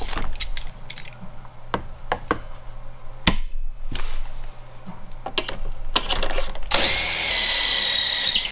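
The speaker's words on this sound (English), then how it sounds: "I have readjusted the depth of the drill bit." A power drill whirs in short bursts between sharp clicks and knocks of work, ending with a louder sustained high whine near the end.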